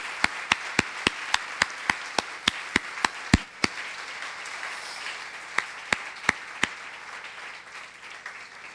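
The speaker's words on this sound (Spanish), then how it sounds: "Démosle un aplauso al Señor Jesucristo en esta mañana." A church congregation applauds during a Sunday morning service, with sharp, evenly spaced claps ringing out over a softer wash of clapping that thins out and fades toward the end.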